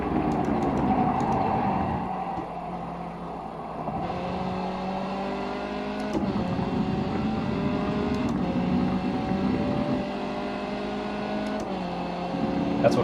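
An iRacing race car engine at Twin Ring Motegi GP whines up through the revs, its pitch climbing and dropping back sharply at each upshift, steady and close throughout.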